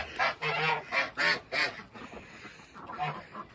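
A gander honks at its keeper near a flock of geese and ducks, letting out repeated loud, close, nasal honks in short bursts that trail off toward the end.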